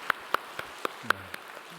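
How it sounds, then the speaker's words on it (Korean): A church congregation applauding during a Sunday service, heard as a handful of sparse, sharp claps spaced unevenly, fairly close, with a brief low murmur near the end. "우리 박수하겠습니다."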